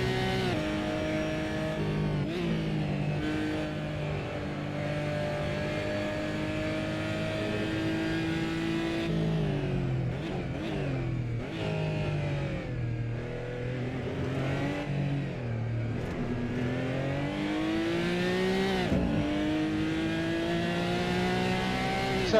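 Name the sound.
race car driving a lap in the Assetto Corsa video game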